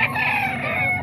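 Chicken crowing at a poultry market in Calumpit, a single loud close cock-a-doodle-doo held for about a second, with no voices.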